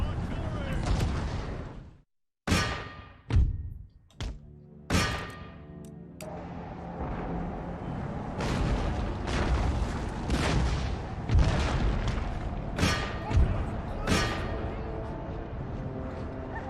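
Cannon artillery in an Empire: Total War battle, several loud booming shots fired one after another with rumbling decay, spaced irregularly over a dense din of battle noise.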